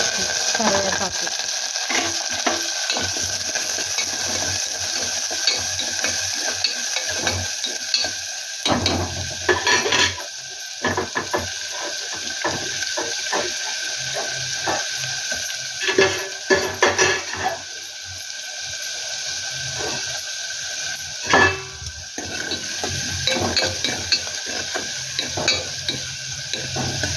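Onions and curry leaves fry in a pan with a loud, steady sizzle while a utensil stirs and scrapes against the metal in irregular bursts throughout.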